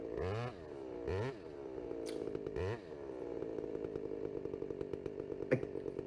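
A chainsaw rises to full revs in three sharp bursts, then settles into a sustained buzzing cut as it bites into the tree trunk to open the felling notch, loud and close.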